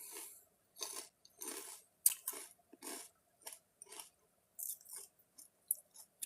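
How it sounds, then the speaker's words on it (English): Pork rinds with pepper sauce crunched close to a mic, a series of crisp, irregular bites and chews separated by short silences. "so if you hear me crispy crunching"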